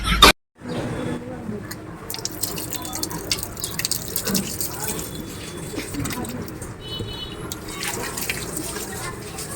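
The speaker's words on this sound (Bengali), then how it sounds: "পা পরিষ্কার হয়ে গেছে এবার বন্ধ করো কল" Water runs steadily from a tap onto feet being washed, a continuous splashing flow with dripping, under a child's and adult's voices talking.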